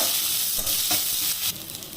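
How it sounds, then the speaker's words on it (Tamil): Onions sizzle and crackle loudly in a hot pan, with brief scraping stir sounds breaking through the frying hiss. "வெங்காயத்தை போடுவேன் வெங்காயம் கொஞ்சம் நல்லா திறந்து வதங்கட்டும்"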